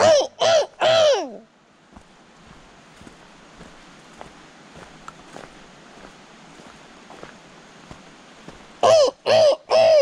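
Three loud, harsh cawing calls from a human voice imitating a crow open the clip, then a quiet stretch with faint ticks, and three more caws close it.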